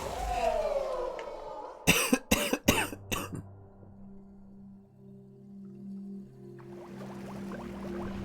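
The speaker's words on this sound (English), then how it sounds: "I held that cough as long as I could" A person coughs hard in a quick burst of four, preceded by a long groaning vocal sound and followed by quiet low background tones from a video game.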